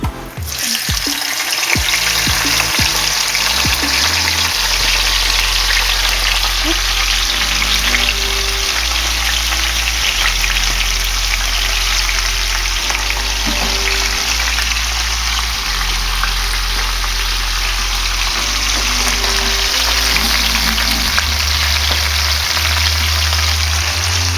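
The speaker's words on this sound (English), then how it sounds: "So the skillet is now nice and hot, ready for the onions. I'm going to go ahead and just dump those in there." Onions dumped into a hot skillet, a loud, dense, continuous sizzle that holds steady throughout, close up with a low rumbling hum beneath and no speech.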